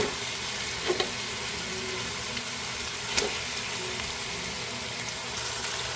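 Pork hock dropped into a hot pot of oil with ginger, onion and tomato, sizzling and crackling steadily throughout, with a couple of brief louder pops or clatters near the start and middle; no talking.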